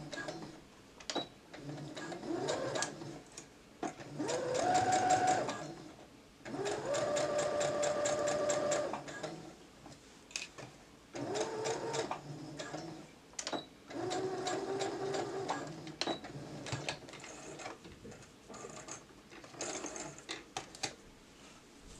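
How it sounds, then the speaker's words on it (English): A sewing machine back stitching the neckline of a kaftan runs in loud, rapid mechanical bursts separated by short pauses, close and alone. "Starting off where you stop stitching, make sure to back stitch at the beginning and at the end."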